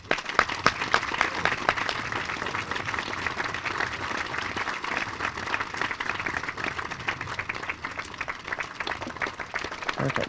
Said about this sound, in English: Please join me in a loud and thunderous applause to welcome Congresswoman Tulsi Gabbard.